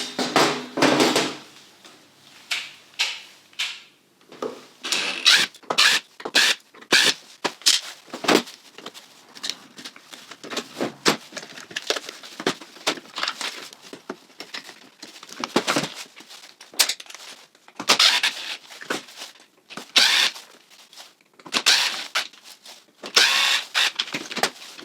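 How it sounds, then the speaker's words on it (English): Motors being removed from an Ambrogio Twenty Elite and a Husqvarna Automower 310 robotic lawn mower: repeated sharp clicks, clunks and rattles of parts and tools, irregular and close, with no talk. "I'm now going to remove the motors from both robots so we can take a closer look and compare them"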